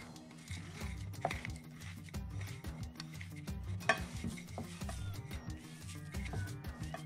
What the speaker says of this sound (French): vous pétrissez jusqu'à obtenir une pâte homogène, que le sucre se soit bien mélangé avec le beurre